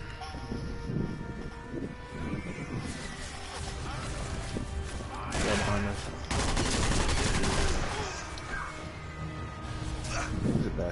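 Rapid gunfire bursts crackle from the shooter game Sniper Elite V2 Remastered, fusillades of automatic shots rattling on and off throughout, loud and close, with players talking over the shooting.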